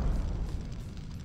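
Roaring fire and explosion rumble in a burning warehouse in the Syphon Filter video game, a dense, steady low-frequency blaze with faint crackles running evenly throughout, quiet overall.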